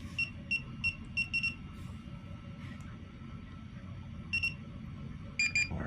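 Several short high-pitched electronic beeps in quick bursts from a DJI drone linking to DJI Goggles 3, fairly faint over a steady low background hum, with pauses between the groups of beeps.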